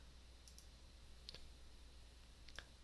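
Faint, isolated computer mouse clicks during MP3 editing software use, three sharp clicks spaced about a second apart over a low background hum.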